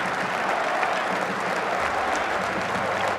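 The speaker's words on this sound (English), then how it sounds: "had to be stretchered off the field to applause from the crowd" A football stadium crowd applauds steadily as an injured goalkeeper is stretchered off the pitch, a loud, dense wash of clapping sustained for about three seconds with no voices standing out.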